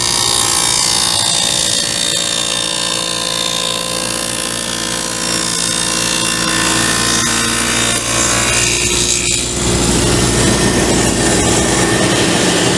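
A table saw fitted with a dado set cuts a groove into a wooden shoe stand panel, a loud continuous whining roar that holds steadily through the cut and shifts tone partway as the blade finishes, with no talking.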